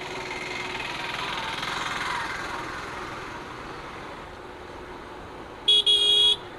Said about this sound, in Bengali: স্মুথ একটা হর্ন, স্মুথ।